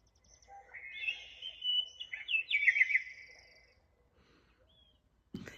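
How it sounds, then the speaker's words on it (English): Recorded birdsong alarm from a JALL sunrise alarm clock chirps and warbles in a short trilling phrase, fairly quiet and close, followed by silence and a brief thump. "And I usually choose the birds chirping."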